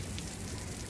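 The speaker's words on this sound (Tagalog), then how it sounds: "tapos ngayon umuulan na naman" Heavy rain pours steadily in Dubai, a dense continuous hiss of drops on surfaces, loud and close throughout the short stretch with no voices.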